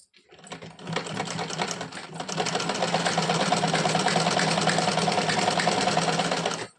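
Sewing machine stitching the waistband of a salwar with a half-inch margin, a loud continuous mechanical whir that starts softly and holds steady for several seconds before stopping, close by and without talking.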